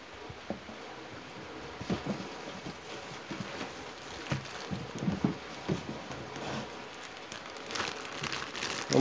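Paper inserts crinkle and rustle while a Makita EA3200S chainsaw is unpacked, a soft, irregular scratching and crumpling close by with a few louder rustles.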